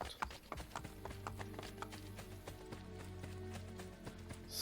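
A horse gallops in the Assassin's Creed Brotherhood video game, its hooves drumming in a fast steady rhythm over a low hum of game music and ambience.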